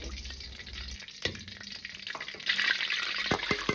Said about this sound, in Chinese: 接着下入几颗花椒，先炸出香味。